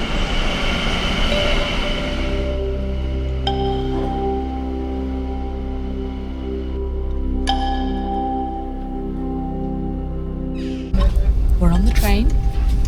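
A train hums and rumbles at Utrecht station with steady tonal drone, occasional metallic squeaks and clanks, then a louder rumble as it moves.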